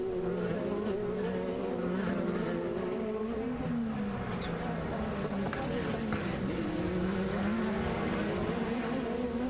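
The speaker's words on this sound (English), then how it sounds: "See Newgarden wrestling that car off turn 11" IndyCar race cars roar along a street circuit near the end of a race, a sustained engine drone with shifting pitch as cars pass, steady and loud throughout.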